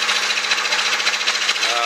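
Borehole drilling rig working at a farm house, a steady loud grinding, hammering drone that runs continuously without a break.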